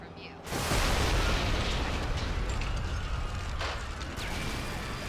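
Explosion in the Call of Duty Modern Warfare 3 video game: a loud, sudden blast breaks in after half a second of quieter sound and its rumbling roar carries on for several seconds.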